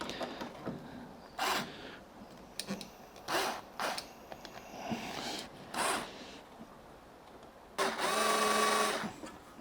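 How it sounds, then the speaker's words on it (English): An electric screwdriver driving screws into fittings on a CFMOTO 800MT Explore motorcycle top box, several short whirring bursts separated by pauses, with a longer run near the end. "So I've got an electric screwdriver. Just going to go from this side and just do these screws up a bit until they turn"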